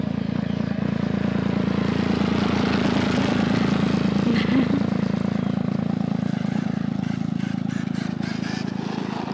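An E-Revo WXL RC car drives fast, giving off a constant whining motor buzz that stays steady and fairly loud across the stretch, while faint voices are heard at moments.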